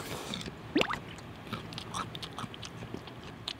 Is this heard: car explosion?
no